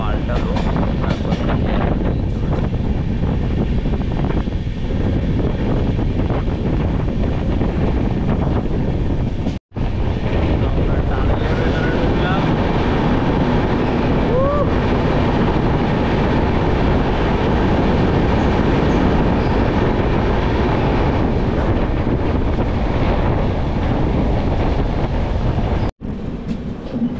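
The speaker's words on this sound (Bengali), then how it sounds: "পাহাড়ের বুক চিরে চলেছে আমাদের ট্রেন।" Samaleswari Express running from Howrah to Jagdalpur through hills, a loud steady rumble of wheels and carriages with rhythmic clatter and wind buffeting the microphone throughout, briefly cut off twice.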